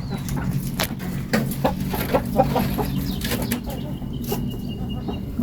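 Agitated chickens let out of their coop cluck and squawk continuously, with bursts of wing flapping, close by against a busy farmyard background.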